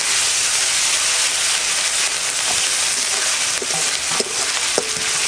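Onion with garlic and ginger paste frying in oil for a Bengali fish curry, a loud, continuous hissing sizzle close by with a few sharp crackles and clinks late on; no talking.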